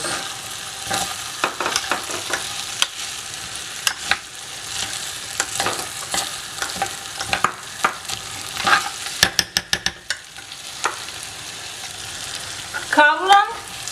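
A rice mixture for Turkish chickpea pilaf toasts in a pot, with intermittent scraping stirs, a quick burst of utensil clicks and a soft sizzle underneath, no voices.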